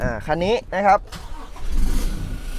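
A pickup truck engine rumbles low and steady, starting under a man's brief speech in Thai and then continuing alone with a throaty exhaust note.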